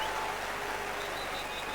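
Tipperary supporters cheer and clap after a score in a 2007 hurling championship qualifier against Cork, a steady wash of crowd noise that holds at an even level throughout.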